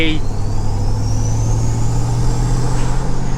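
Twincharged Chevrolet Silverado truck engine with turbocharger and supercharger idling and lightly loaded, a steady low rumble with a rising whine, under someone talking close by.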